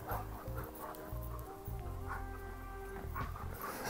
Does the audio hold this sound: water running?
no